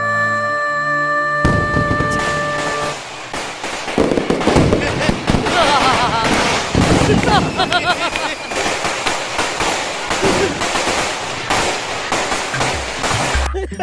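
A loud fireworks display goes off at night, a rapid barrage of cracks and bangs that sets in after about two seconds and then keeps bursting densely and without pause to the end.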